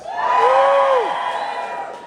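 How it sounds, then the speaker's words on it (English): A crowd of young farmers at an awards night cheers loudly in a sustained burst of whoops and shouts that swells quickly and then gradually fades. "Give me a cheer if you're a young farmer tonight."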